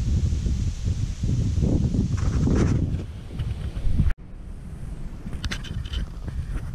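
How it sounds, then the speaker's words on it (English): Wind blowing through trees outdoors on a sunny walk, a steady roaring rush with rustling leaves and buffeting against the microphone, interrupted by one sharp knock midway. "Lovely sound, wind and trees."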